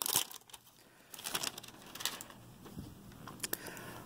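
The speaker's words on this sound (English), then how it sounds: "So let's unwrap it." Plastic wrap is peeled off a Samsung A51 5G phone box, giving irregular crinkly rustles and sharp crackles in bursts, fairly quiet and close, with no talking.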